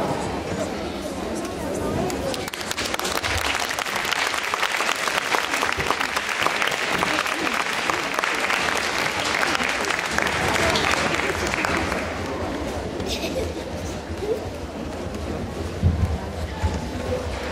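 A large audience applauds at a gymnastics gala in an indoor arena in Tartu, Estonia, a steady, dense wash of clapping that holds for many seconds and eases slightly near the end.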